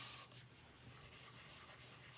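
A paper die-cut embellishment rubbed onto a card from the edge toward the center, a faint, close, dry scuffing friction with no talking.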